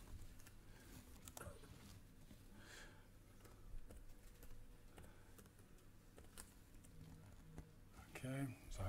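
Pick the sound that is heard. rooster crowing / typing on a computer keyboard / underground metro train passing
typing on a computer keyboard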